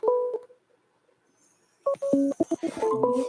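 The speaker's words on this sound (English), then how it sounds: "now the phone's ringing" A telephone sounds a series of electronic tones: a short, loud burst, a pause of silence, then a rapid cluster of beeping tones.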